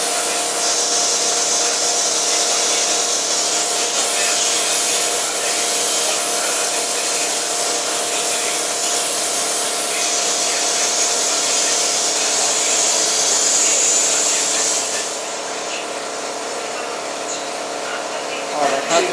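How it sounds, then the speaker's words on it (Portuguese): A steady, loud hiss-like whirring of an air pump or compressor inflating a car tyre runs almost continuously for about fifteen seconds, then the pitch and level drop slightly near the end, with people talking faintly around it. "Aquele ali só tá enchendo o pneu, Gabriel."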